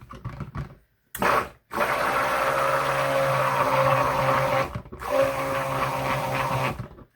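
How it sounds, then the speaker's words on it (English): Stick blender whirs through white soap batter in a steady, loud motorized drone, cutting out briefly twice before resuming, with no talking. "I'm going to give this white a little hit with the blender."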